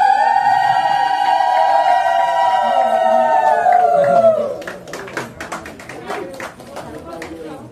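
Applause from the audience at a block-level cultural program in Puri, with scattered claps breaking out after a long sustained tone fades, arriving in uneven bursts over crowd murmur.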